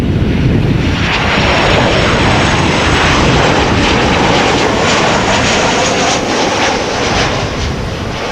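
Aircraft landing at an airport where a KLM 747 is expected, a loud broad engine roar close by that stays strong and steady with a slight fade toward the end.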